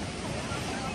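Surf breaks along a beach in Bali, a dense, steady wash of waves mixed with wind buffeting the microphone.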